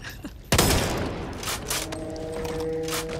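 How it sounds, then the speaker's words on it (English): A shotgun in the zombie co-op shooter Back 4 Blood fires one loud, close blast that decays into a rumbling tail under ongoing game ambience and faint tonal sounds. "A scope on this, it's a shotgun."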